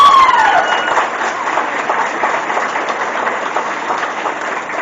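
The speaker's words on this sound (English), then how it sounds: "please give her a round of applause" An audience at a livestock show claps in a steady, even round of applause that lasts several seconds, opening with a brief rising whistle-like tone.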